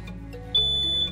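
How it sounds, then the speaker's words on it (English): A steady, piercing electronic smoke detector alarm tone sounds alone, shifting partway through into a louder, shriller beep. "Fire or smoke detector."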